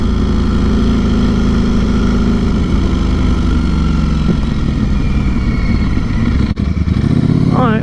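A Ducati Streetfighter V4S motorcycle engine runs loud and close, a steady throbbing rumble that holds evenly with slight rises in revs, with a brief dip near the end.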